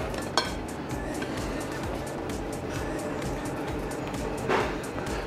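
A hot, thickened mixture is poured from a pan back into a small pot through a sieve in a kitchen, with a steady liquid rush and a couple of sharp metal clinks from the pot and utensils.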